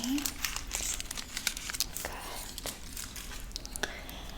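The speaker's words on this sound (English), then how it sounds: "I'm just gonna start by removing your foils" Crinkly hair foils being pulled out of colored hair in a salon, close crackling and rustling in quick irregular bursts, with soft speech under it.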